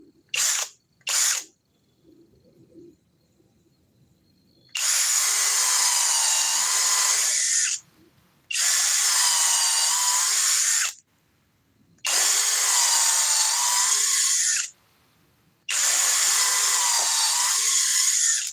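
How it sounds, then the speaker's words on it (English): A cordless drill on speed 2 whirs in four long bursts of several seconds each, separated by short pauses, loud and close, after a couple of brief knocks. "See how long this takes to drill a hole."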